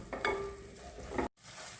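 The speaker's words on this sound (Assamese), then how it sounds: "এতিয়া এই মছলাখিনি ধুনীয়াকৈ তেল এৰালৈকে ভাজি ল'ম।" Soft sizzling of masala spices frying in oil until the oil separates, with brief stirring noises near the end before a short cut to silence, then sizzling continues.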